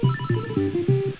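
A telephone ringing in the Link's Awakening video game, a chiptune-style warbling ring of repeated two-tone pulses in quick bursts, clear and steady with no speech.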